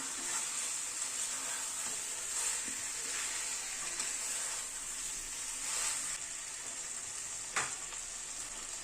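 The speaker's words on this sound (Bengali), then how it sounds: "শাকটাকে দিয়ে ভালো মতো চিকেনের সাথে কষিয়ে নিলাম" Chicken and fresh fenugreek greens sauté in a pan with a steady, close sizzle throughout, with a few sharper stirring scrapes and spatters along the way.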